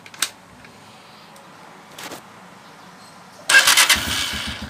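A Honda TMX 125 Alpha motorcycle after a tune-up with valve clearance set, carburettor and spark plug cleaned: a few faint clicks, then the engine fires up abruptly and settles into a close, steady putter.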